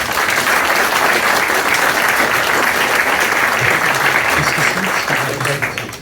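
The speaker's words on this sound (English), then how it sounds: "Ladies and gentlemen, round of applause please." A talk audience at the Crash Live 2024 retro gaming event breaks into loud, sustained applause, a dense wash of clapping from a full room that holds steady for several seconds before starting to fade.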